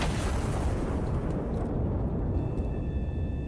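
Artillery gun firing in the video game Iron Nest: a heavy, deep boom that rolls into a loud, sustained roar, filling the whole stretch with no voices.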